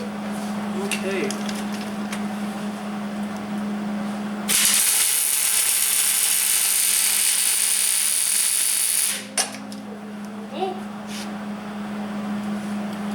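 Welding on a 1969 Ford F100 truck during a Crown Victoria swap: a steady, loud crackling hiss holds for about five seconds mid-clip, with quieter shop noise and a low hum before and after.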